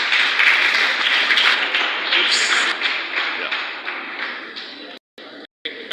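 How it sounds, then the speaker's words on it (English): Audience applause at a global health workforce sharing and learning event, steady dense clapping that fades toward the end and cuts out briefly near the close. "A round of applause"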